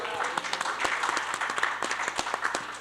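Audience applause at the 2025 National Cannabis Policy Summit: a steady, fairly subdued patter of many hands clapping, moderately close, with no voices over it.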